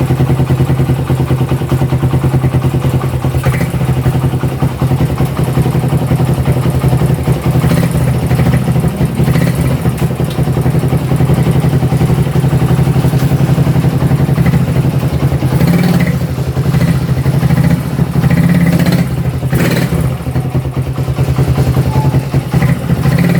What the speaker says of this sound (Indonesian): Begitu digas, kopling dilepas langsung